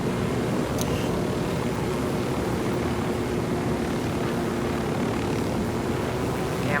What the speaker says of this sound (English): That chopper's chock full of supplies the rebels could use.